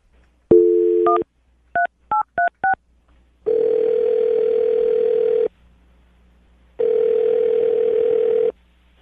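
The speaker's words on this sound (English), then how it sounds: "I'm going to dial the phone number right now" Touch-tone beeps dial a phone number: a quick series of short paired tones, followed by two long, steady ringing tones with pauses between.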